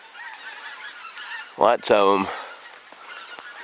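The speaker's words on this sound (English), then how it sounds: "there's the geese." Geese honk outdoors on a rainy day: two loud, close honks in quick succession stand out against a quiet background, and someone speaks briefly.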